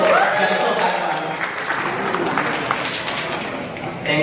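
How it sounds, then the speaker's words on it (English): A crowd at a Pride event in New York City Hall answers with scattered clapping and snaps, a loose wash of applause carrying on under a speaker's amplified voice. "maybe honor that with some snaps, claps"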